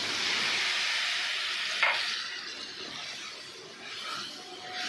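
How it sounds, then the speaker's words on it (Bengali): Ground spices, coriander and cumin powder, frying in a pan for kosha, making a steady loud hiss with a brief stirring scrape, then easing slightly. "আমি মশলাটা এবার কষতে দেবো"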